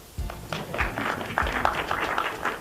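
An audience claps through a business presentation, a steady patter of many hands at moderate distance with a few lower thumps and no talk.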